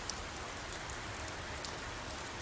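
Steady rain hisses evenly in the video game Oxenfree, a soft continuous patter of drops with no voices over it.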